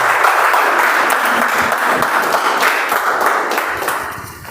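A Toastmasters meeting audience gives a round of applause to welcome the Master of Ceremony, dense steady clapping filling the room for several seconds before gradually thinning at the end.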